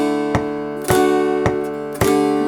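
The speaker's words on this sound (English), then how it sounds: "I think I'll use the metronome on this." A metronome set to 106 clicks on every other beat at a slow, steady pace, four sharp ticks sounding alone over a faint sustained background tone.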